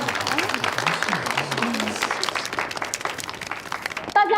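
Audience applause in a hall at a pet-themed product launch, greeting a famous painter called onto the stage. The clapping is dense and steady, with background music underneath, and a sharp sound comes at the very end.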